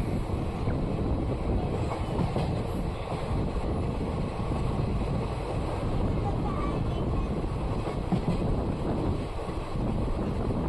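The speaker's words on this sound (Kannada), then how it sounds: "ನಮ್ಮ ಟ್ರೈನ್ ಈಗ ಅಲಿಯಾಬಾದ್ ರೈಲ್ವೆ ಸ್ಟೇಷನ್ನ ಸ್ಕಿಪ್ ಮಾಡ್ತಿದೆ" A moving passenger train rolls past Aliyabad railway station on the outskirts of Vijayapura, a steady close rumble of wheels and carriage noise with buffeting wind through the whole stretch.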